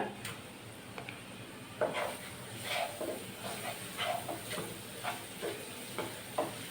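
Ginger and garlic paste for egg curry sizzles in a pan under a steady hiss while a spoon scrapes and stirs in irregular strokes, close up and fairly quiet.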